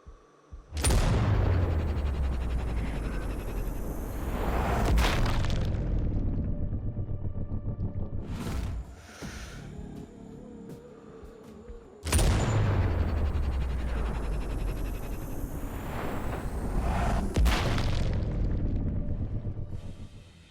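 Sniper rifle gunfire in the video game Sniper Ghost Warrior Contracts: two loud, booming shots about eleven seconds apart, each followed by a long, rumbling, slowed-down tail with no voices.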